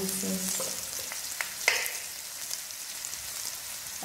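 Garlic and shrimp fry in margarine in a pan, a steady soft sizzle with brief clinks and stirring noises, close and alone.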